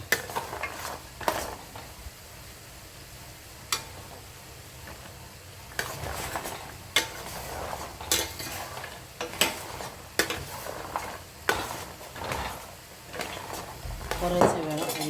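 A spoon stirs and scrapes a thick jaggery and rice flour mixture in a pan, with regular knocks and scrapes against the metal every second or so over a soft background sizzle.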